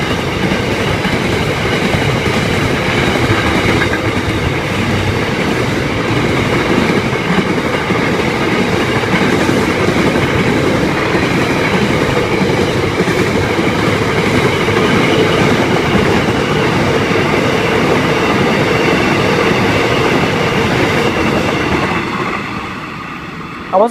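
A fast freight train passes through the station at Wyong, a loud, steady, close roar of rumbling wagons and rhythmic wheel clatter that lasts over twenty seconds and eases off at the very end, with no voices.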